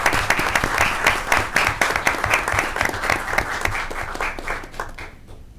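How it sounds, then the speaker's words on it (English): Applause from an audience at a school board meeting honoring R.B. Chamberlain Middle School students, a steady round of clapping from a medium-sized crowd that continues throughout, then fades out at the end. "let's give them one more round of applause"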